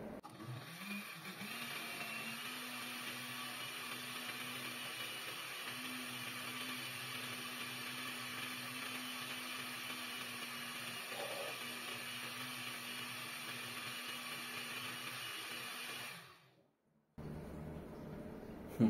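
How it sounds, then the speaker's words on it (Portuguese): A small home blender mixes cake batter in a steady, even whir that runs for about sixteen seconds, then stops abruptly, leaving a short quiet pause before a brief restart. "Esse liquidificador é pequenininho, viu, gente?"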